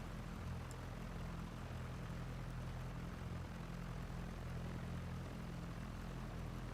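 An aircraft engine running in the X-Plane flight simulator game gives a steady, loud, unbroken propeller drone that holds throughout with no talking.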